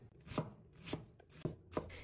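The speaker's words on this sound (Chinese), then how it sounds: "最后把洋葱切成小碎丁" A knife chops an onion into small dice on a cutting board, with four evenly spaced sharp chops landing close and clear over quiet kitchen background.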